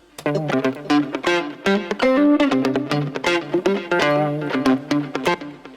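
Space disco guitars play rhythmic chords with delay and chorus, narrowed toward the centre of the mix, bright and upfront in a steady groove.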